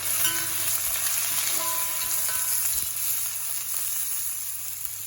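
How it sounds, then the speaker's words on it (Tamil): Mutton sautéing for a Jaffna-style curry in a mix of sesame and coconut oil, giving a steady, close, continuous sizzle with light stirring and no talk. "இதுக்குள்ளே நான் நல்லெண்ணெயும் தேங்காய் எண்ணெயும் மிக்ஸ் பண்ணி இதை வதக்க போகிறேன்"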